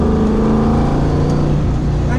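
A Coyote V8 swapped into a Fox Body Mustang making 470 wheel horsepower growls loudly and steadily up close, a deep continuous engine drone that holds without a break.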